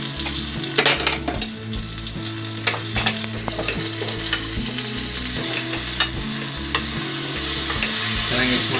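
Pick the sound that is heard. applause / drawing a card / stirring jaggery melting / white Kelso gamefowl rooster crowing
stirring jaggery melting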